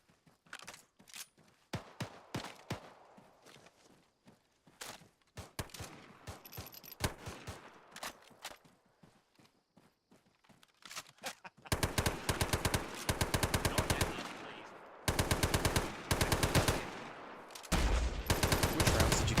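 Gunfire in the Arma military shooter: scattered single shots and short bursts at first, then sustained rapid automatic fire in dense bursts, loud and close, with brief pauses between volleys.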